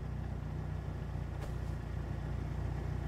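A Mitsubishi Lancer Evolution sits at idle, close by and steady: a constant low engine rumble with a faint whoosh in the middle, no voices over it.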